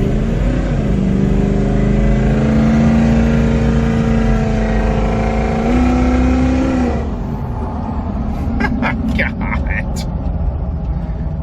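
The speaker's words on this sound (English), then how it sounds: "All we did was a big old burnout." Loud engine roar from a 600 HP Ford Excursion truck during a burnout holds for about seven seconds, then drops to a lower idle rumble while a person speaks.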